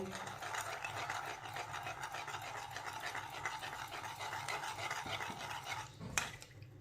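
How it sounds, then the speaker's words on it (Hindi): A spoon stirs custard powder into a small bowl of milk, giving a continuous soft scraping and swishing close by, with a sharper clink near the end and no one talking. "थोड़ा सा मैंने कटोरी में दूध लिया है, 1 चमची कस्टर्ड डालेंगे। मिक्स कर लेंगे।"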